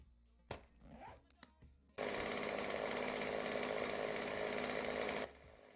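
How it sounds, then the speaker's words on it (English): A chainsaw in the survival game 7 Days to Die gives a few short clicks and a sputter, then roars into a loud, steady buzzing whine for about three seconds before cutting off. "I'm going to go ahead and crack open this chainsaw real quick."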